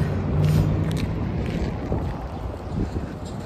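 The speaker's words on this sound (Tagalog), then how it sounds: "So now the weather, it's very sunny and windy" Outdoor wind on a sunny, windy day in Canada buffets the microphone with a constant loud rumbling roar and uneven gusts, no voices present.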